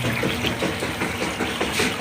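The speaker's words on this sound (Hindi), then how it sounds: "ये देखो मशीन, इधर पानी चल रहा है।" Water runs and churns steadily inside an industrial dry-cleaning washing machine, a loud continuous gushing, splashing wash with no pauses.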